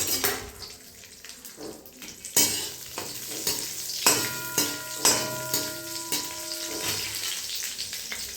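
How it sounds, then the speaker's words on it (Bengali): Cashews fry in a little ghee until reddish, with a close, steady sizzle broken by repeated sharp clinks and scrapes of a spoon against the pan, plus a brief ringing metallic tone, and no voices. "এরপরে আমি এই কাজুগুলোকে ভেজে নেব একটু অল্প করে।"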